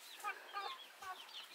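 Backyard chickens, about two months old and kept in Panama, cluck softly and close by in a short burst of several quick calls with no talking.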